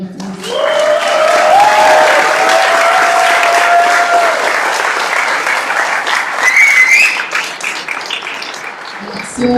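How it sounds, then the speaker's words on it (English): Loud sustained applause fills a general assembly hall at a council meeting, dense clapping throughout with tonal whistles or voices rising above it partway through. "I'll ask you for a big round of applause for Cartagena, please."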